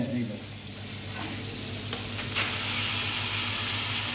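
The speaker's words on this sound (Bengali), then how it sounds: "এটা দিয়ে এবার ফ্রাই হচ্ছে, মশলার সঙ্গে চিকেন একসঙ্গে" Chicken frying together with a spice paste for a Junglee chicken dish, a steady close sizzle filling the whole stretch with faint stirring scrapes.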